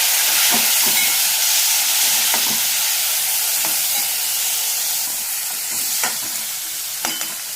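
Chopped dilpasand (round gourd) fries in a pan with turmeric and chilli powder, a continuous dense sizzle with repeated spoon scrapes and stirring knocks, near and steady throughout.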